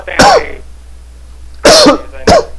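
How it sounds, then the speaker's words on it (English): Three loud, close coughs: one single bark, a pause, then a quick pair. "I was coughing"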